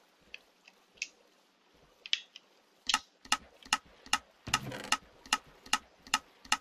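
Minecraft Bedrock droppers in a hopper-speed item sorter fire items into a water stream, making soft, crisp ticking clicks. The clicks start sparse, then come in a quick, steady rhythm.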